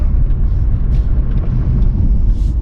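Lincoln LS V8 engine accelerating, a loud, deep, steady low rumble heard from inside the car, with a faint hiss of road and wind noise above it.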